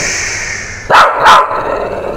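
An anxious, aggressive Shih Tzu lets out two sharp, loud barks close by over a steady background hiss.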